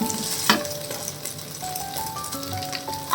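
Food frying in a pan, a steady close sizzle with light crackles, a sharp clink near the start and faint background tones.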